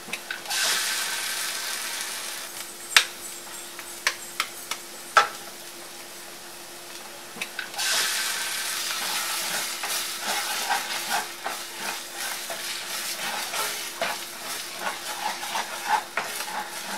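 Beaten egg with masala poured into a hot pan and stirred as it fries for an egg fry, giving a steady sizzle with scattered spatula scrapes and taps, a few sharper knocks early on, and no talking.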